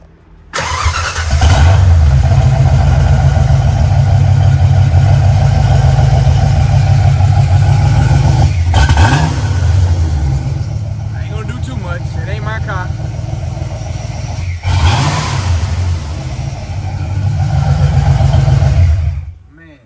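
Chevrolet Camaro Z28 with a freshly restored grey body and red interior runs loud and close, its engine droning and revving in long sustained pulls with brief dips, while people talk over it.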